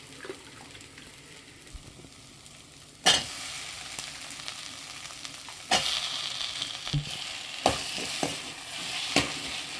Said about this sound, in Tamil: இந்த வெங்காயம் தக்காளியோடவே இந்த காயை வந்து ஒரு ரெண்டு நிமிஷம் நல்லா வதக்கி விட்டுடுங்க